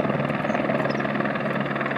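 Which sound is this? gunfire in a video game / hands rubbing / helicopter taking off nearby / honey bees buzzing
helicopter taking off nearby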